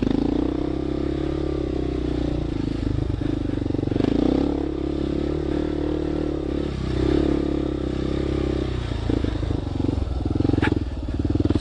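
A big motorcycle drones steadily at a practice track with a low, even engine hum, dipping and swelling slightly as the rider eases off and back on, with faint clatter and wind noise.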